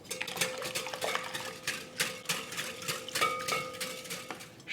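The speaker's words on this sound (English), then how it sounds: "Then I need to whisk in 1 large room temperature egg" A whisk beats a room-temperature egg into batter in a bowl, giving quick repeated clinks and scrapes against the bowl's sides at close range, with no one talking.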